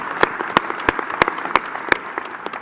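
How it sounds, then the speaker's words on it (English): Applause from delegates at the GMB union congress, a scattered crowd clapping with a few loud, sharp individual claps ringing out at a steady rhythm above the softer patter, fairly near and with no voices. "Can we have an applause for Louise, please?"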